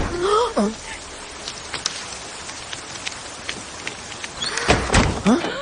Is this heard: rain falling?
yes